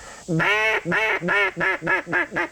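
A duck call blown in a series of about seven nasal quacks, steady and evenly spaced, loud and close, imitating a contented duck.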